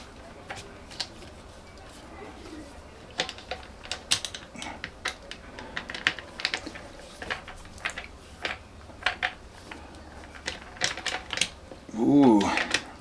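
Screws being cranked down by hand into plastic holes while fitting parts of a DeWalt 20V Max brushless folding string trimmer: a run of close, irregular clicking and ratcheting ticks with brief pauses, ending in a short louder scrape.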